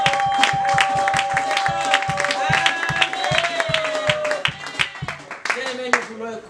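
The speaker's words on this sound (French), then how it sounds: "Acclamons pour cet homme." A church congregation claps in a fast, steady rhythm, with cheering voices and sustained tones riding over the beat, the clapping loosening toward the end.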